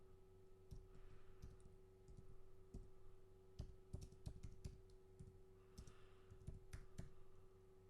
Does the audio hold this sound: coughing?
no